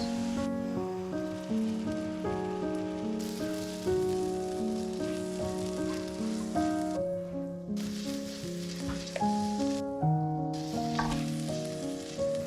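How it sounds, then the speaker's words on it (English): Masala of browned onions and garlic frying in a pan over a high flame, a continuous close sizzle with stirring scrapes throughout and musical tones running under it. "We'll fry the masala for a few minutes."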